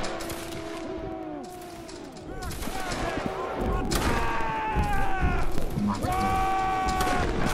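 A ragged volley of musket fire crackles across a Waterloo battle video game, several overlapping shots and booms, loud and close, with shouted voices and a rising clamour after the first blasts.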